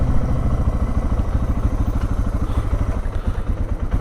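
Motorcycle engine idling and chugging close by while the rider parks it near a water-filling spot during a solo motorcycle trip across America, a steady loud rumble with a slight dip toward the end and no talk.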